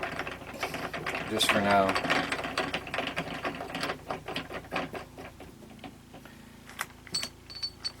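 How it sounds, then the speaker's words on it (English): A ratchet drives screw-in feet into a Q3 pulse motor rotor and stator assembly, making fast clustered clicking bursts up close, then sparser ticks, with a brief spoken remark. "Screw these in and act as feet and keep some of that angular pressure off that."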